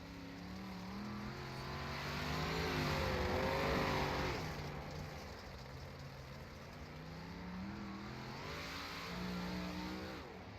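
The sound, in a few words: dirt race car lapping speedway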